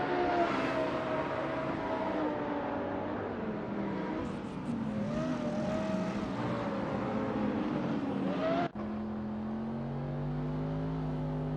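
Racing cars in a driving simulator video game, AI-driven, whine at a steady high revving pitch with shifting engine tones and a brief drop near the end, heard alone without talk.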